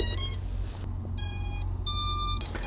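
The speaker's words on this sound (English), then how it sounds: "The beeping you hear is something I put on to tell me I'm in horizon mode." An electronic beeper on an iFlight Titan XL5 FPV drone sounds in horizon mode, giving a few separate high tonal beeps over a low background hum.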